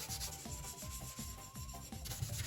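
A wet sponge scrubbing the sooty glass of a fireplace door, producing rhythmic back-and-forth rubbing strokes, close and moderately loud, with no speech.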